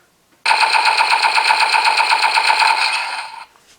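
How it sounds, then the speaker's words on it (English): Rapid electronic machine-gun burst from the DX Bake Magnum toy blaster from Kamen Rider Gavv, trigger held, a fast stuttering stream of buzzy shots lasting about three seconds, loud and close, then cutting off. "we have a standard blasting sound, and a rapid fire sound by pressing holding trigger"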